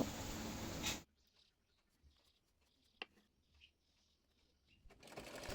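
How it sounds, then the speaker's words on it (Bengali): A sewing machine stitches the ribbon onto an umbrella-style frock, running loudly for about a second, pausing through a near-silent stretch with faint ticks, then starting up again at the end. "ফরকের ফিতা সেলাই করে নেব"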